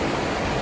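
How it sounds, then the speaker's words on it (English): A heavy waterfall along a trail where rushing water has washed out part of the path, a dense, steady roar of falling water, close and loud, with no voices. "enjoy the waterfall"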